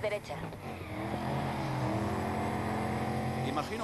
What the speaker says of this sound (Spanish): Bueno, la válvula de descarga, pero suena increíble.